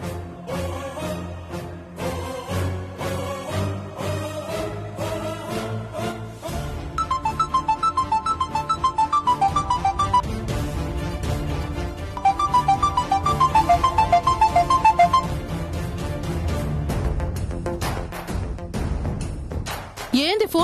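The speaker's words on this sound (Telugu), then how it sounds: "ఏంది ఫోన్ తీయట్లే?" A mobile phone ringtone plays a repeating electronic melody over dramatic background music in a Telugu TV serial scene, ringing on unanswered for a long stretch at fairly loud level.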